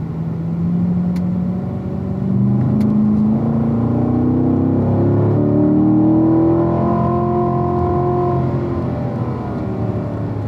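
A race car accelerates hard out of turn 4 on a race track, its engine note climbing steadily through the gears in a loud, close, rising whine and rumble that lasts the whole stretch.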